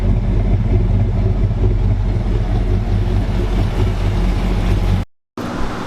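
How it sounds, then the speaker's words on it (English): Car engine on a dyno idling with a choppy, lopey cam, a loud, rhythmic rumble held throughout that drops out abruptly near the end, no talk. "Take a quick second to enjoy a little chop action of it."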